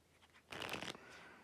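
A standard poker deck of cards is shuffled once, a brief close riffling burst of crisp fluttering card noise lasting under half a second, followed by quiet.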